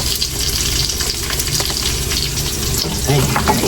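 Chopped onions going into a hot pan with garlic already cooking, a loud, steady, close sizzle and crackle of frying that continues without a break.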